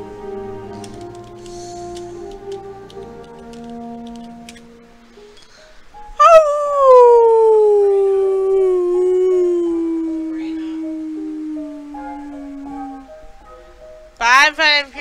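A howl in the Pony Town video game, a single long descending canine-like wail standing out after softer tonal game sounds, followed by a short burst of yips at the end.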